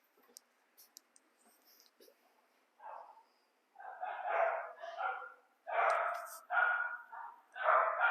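Dogs bark in several loud, close bursts, starting after a few quiet seconds with faint clicks, then repeating in an uneven rhythm of clustered barks.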